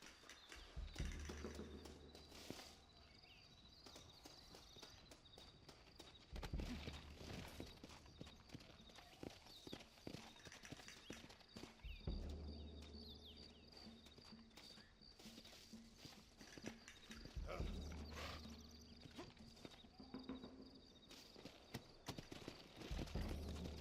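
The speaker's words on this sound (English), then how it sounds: "Looks like Carlos left us some horses." Horses clip-clop along in a Red Dead Redemption game scene, their hooves beating in loose repeated bursts at moderate distance, with a faint neigh and background ambience but no talk.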